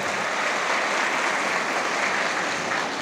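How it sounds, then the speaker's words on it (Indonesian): Steady, dense applause from a crowd at a polytechnic graduation ceremony, loud and continuous for the whole stretch with no voices over it. "Tepuk tangan."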